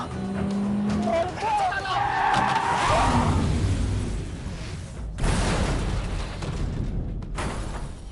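A car speeding in an action movie scene screeches with tire squeals and a rushing engine, while people talk and other scene sounds play over it.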